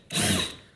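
A power drill bites briefly into a wooden ladder shelf, a single short whirring burst of under a second that rises sharply and then fades, with no talking.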